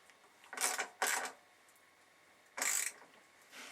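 A wrench ratchets in three quick bursts while fender bolts are snugged on a 2002 Triumph Bonneville, each burst a short metallic clicking run with quiet gaps between, close and fairly faint.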